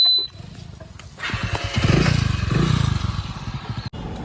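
A motorcycle engine rumbles close by, a low pulsing throb that rises after a quieter start and stays steady and loud, with a brief cut near the end.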